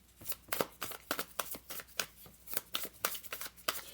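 Tarot cards are shuffled up close in quick, crisp riffling bursts that repeat in an uneven rhythm. No one talks over them.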